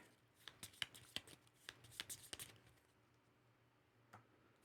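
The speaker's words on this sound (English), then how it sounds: "We're then going to shuffle our discard back into our deck." Board game cards being shuffled by hand: a burst of quick, close riffling snaps over about two seconds, then a lone soft tap after a pause.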